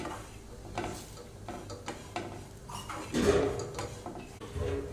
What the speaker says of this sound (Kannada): ಇವಾಗ ಕಾಯಿ ತುರಿ ಕೂಡ ಫ್ರೈ ಆಯಿತು